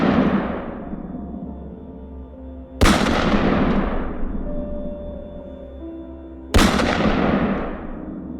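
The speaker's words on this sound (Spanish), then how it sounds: "no dudé en dispararle y le propiné varios disparos" Two loud, sharp gunshots ring out about four seconds apart over a dense background rumble, each blast decaying slowly into a long echoing tail.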